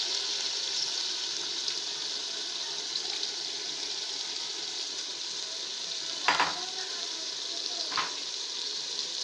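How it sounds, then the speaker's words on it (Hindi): Pasanday, thin slices of meat, fry and sizzle steadily in a pot as yogurt is beaten in, a constant close hiss broken by two soft knocks of stirring near the end. "एक से 2 मिनट पकाने के बाद अब हम इसमें अच्छे तरीके से फेंट कर दही शामिल कर देंगे।"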